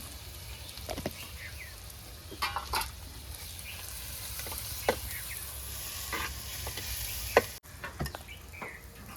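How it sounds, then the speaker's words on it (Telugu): Onions frying in a pot over a wood-fired stove for egg dum biryani, a steady soft sizzle with scattered stirring scrapes and clinks, and a few faint bird calls in the background. "ఇవి ఉల్లిగడ్డలు ఎక్కువ ఫ్రై కావాల్సిన అవసరం లేదు కొంచెం ఫ్రై అయితే సరిపోతుంది"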